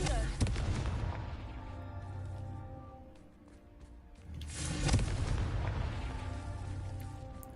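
Confringo spell blasts in a Harry Potter video game, two loud booming explosions about four seconds apart, each with a rumbling decay, under a quiet game soundscape.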